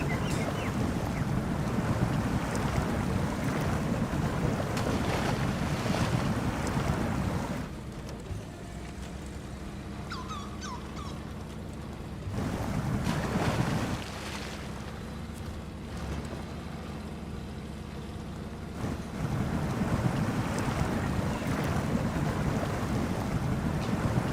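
A truck without a snorkel, its engine stalling, ploughs through deep water in the Snowrunner game. Steady broadband rushing and sloshing fills the whole stretch, easing off for a quieter middle passage before surging loud again.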